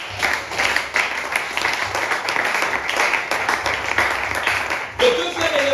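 A church congregation applauding and calling out in acclaim, loud dense clapping with voices mixed in throughout, and a brief break near the end before it picks up again.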